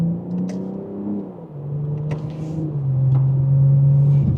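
A 2027 BMW M440i xDrive engine hums and revs smoothly while accelerating in comfort mode, its pitch dipping and then settling into a steady drone that grows slightly louder, with no speech.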